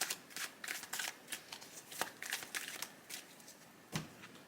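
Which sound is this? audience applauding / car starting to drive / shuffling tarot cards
shuffling tarot cards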